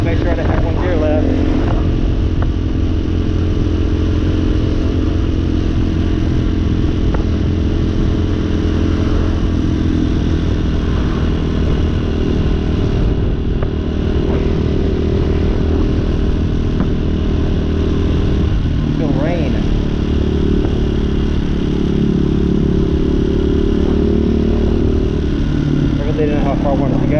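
Motorcycle riding along a road in a low-speed zone, its engine droning steadily and loudly close up under wind noise, with a few gear shifts and a rider talking over it throughout.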